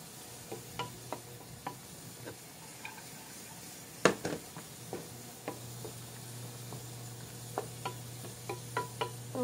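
Mukago yam bulbils being stir-fried in a pan with sugar and soy sauce, with soft sizzling and irregular scraping, stirring taps throughout, one sharper clatter near the middle, a low steady hum beneath.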